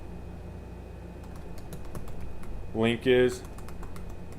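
Light, fairly quiet key clicks from typing on a computer keyboard, running under a brief spoken phrase.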